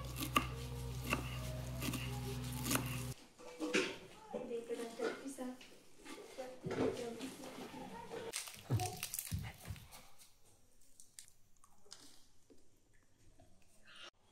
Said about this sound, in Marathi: मी कापून घेते तवर